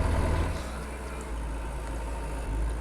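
A tractor engine in the video game Lumberjack's Dynasty rumbles at a low, steady idle, close and continuous for the whole stretch, with no one talking.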